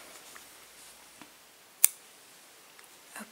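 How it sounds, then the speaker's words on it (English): Scissors snip through crochet yarn in a quiet room, one sharp close cut standing out among a few faint clicks and handling sounds. "You can cut your yarn"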